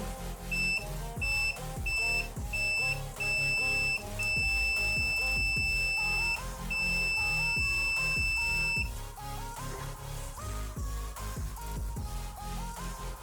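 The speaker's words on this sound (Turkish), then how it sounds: "Taktıktan sonra buzzer süreklilik konumuna getirelim." A multimeter's continuity buzzer beeps in a run of short, steady electronic tones, then holds one longer beep, all over loud background music.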